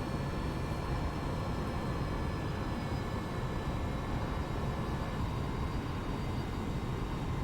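A Boeing 737-800 in X-Plane 11 rolls along steadily with a constant engine drone and faint high whine, a smooth unbroken rumble at moderate distance.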